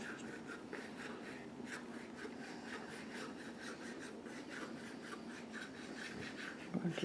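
A knife saws through dumpling dough for beef and dumplings in a quiet, rapid run of soft scraping strokes, close and faint, with no talk.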